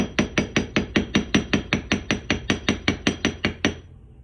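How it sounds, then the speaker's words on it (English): A chasing hammer strikes jewelry wire shaped into an S-hook about sixteen times in a steady, even rhythm, each blow a sharp, close metallic tap with a short ring, with no talking. "So we're going to go ahead and hammer that up."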